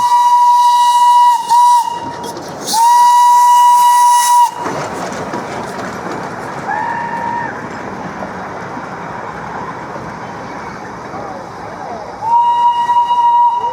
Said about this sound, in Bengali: দেখো এই যে স্টেশন, আর এই যে আসছে টয় ট্রেন